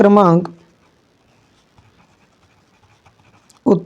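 A pen scratches softly across paper while a Class 10 math answer is written out, faint and close, with short irregular strokes between brief bursts of a man's speech at the start and end.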